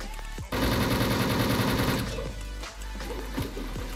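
Rapid automatic gunfire from the online shooter Wolfteam, a dense sustained burst near and loud lasting over a second, followed by scattered shots and clatter.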